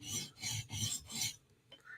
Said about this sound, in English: Do one more pass with 150.